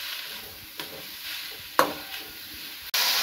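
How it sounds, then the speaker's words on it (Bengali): Grated coconut and jaggery being stirred together in a hot pan, a soft continuous sizzle broken by a few scraping strokes of a spoon against the pan. "আমি এবার নারকেলটা দিয়ে গুড়টাকে ভালো করে মিশিয়ে দেবো।"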